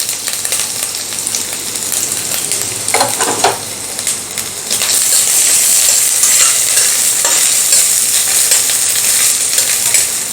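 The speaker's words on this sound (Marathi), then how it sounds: "लसूण आणि आलं आपल्याला अगदी थोडंसं परतून घ्यायचं आहे" Garlic and ginger stir-fried in a pan for egg fried rice: loud continuous sizzling with scraping spatula strokes, close up, growing fuller and steadier partway through.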